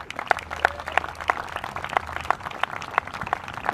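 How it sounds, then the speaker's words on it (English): Applause from a match audience greeting a player in black at a team event, heard as sparse, scattered claps from a modest crowd with a low hum underneath. "keep the applause going for player 2 in the black, Wu Jiajin."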